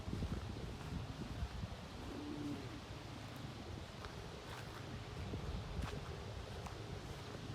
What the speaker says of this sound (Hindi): हवा चलनी शुरू हो गई है